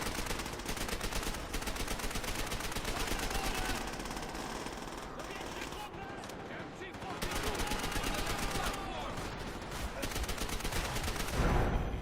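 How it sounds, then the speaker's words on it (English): Call of Duty: World at War gunfire crackles in dense, rapid bursts of machine-gun and rifle shots nearly without pause. A player talks over the shooting. "My bro, you just shot me through that concrete wall."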